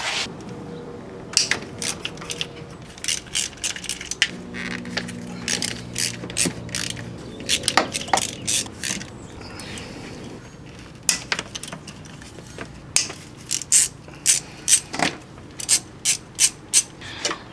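Hand ratchet loosening 10mm nuts from a VW/Audi valve cover, a close series of rapid clicking bursts with short pauses between, some slower creaky turns, no talking.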